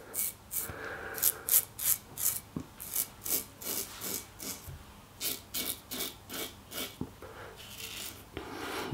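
Parker 65R safety razor fitted with a Gillette Winner blade scraping across stubble in quick, rhythmic rasping strokes, loud and close, about two strokes per second with brief pauses, no talking.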